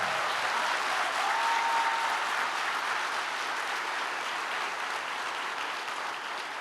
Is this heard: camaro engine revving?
no